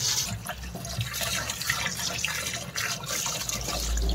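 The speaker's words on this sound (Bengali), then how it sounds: "এই যে চিকেনটা ভালো করে ধুয়ে নিচ্ছি" Chicken is rinsed under a running kitchen tap, a steady close splashing of water broken by small shifts as the meat is turned and rubbed, with no voices.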